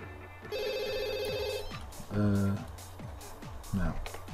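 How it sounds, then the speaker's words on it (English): A telephone rings in The Sims 2, an electronic ringtone in repeated bursts of tonal beeps that stand out clearly over game music and ambient sound. "I was gonna answer that phone anyway."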